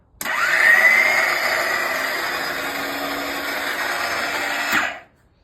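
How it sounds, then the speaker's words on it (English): Electric landing gear actuator on a bench test rig driving down under a heavy load, then halted by its dynamic brake: a steady whirring motor with a gear whine, running for several seconds before stopping abruptly. "Now we'll go down and see if the dynamic brake will stop all that weight"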